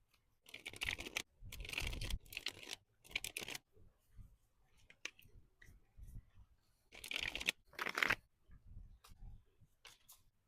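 Tarot cards riffle and shuffle in several bursts, crisp fluttering rustles separated by short pauses, close and fairly quiet.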